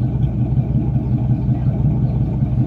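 A 4.6 Mustang GT engine with swapped Pi heads runs loud and close under the hood, its throttle worked by hand to give a steady, heavy, rumbling drone with a slightly choppy pulse.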